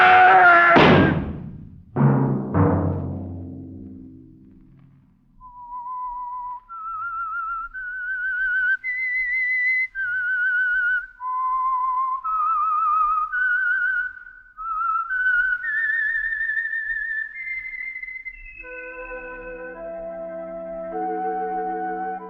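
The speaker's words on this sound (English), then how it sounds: "Let that whistle be your signal for the Signal Oil program, The Whistler" After a couple of loud opening thumps, a lone whistler carries the eerie signature melody of The Whistler radio mystery program, with clear sustained notes that drift up and down and end in a held chord-like swell.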